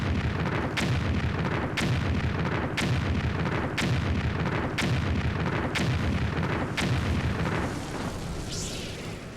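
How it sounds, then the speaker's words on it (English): Jabba's sail barge blowing up in the Disney Infinity 3.0 video game: repeated booming blasts at a regular one-second rhythm over a rumbling roar, loud and close. "Blowing up the sail barge."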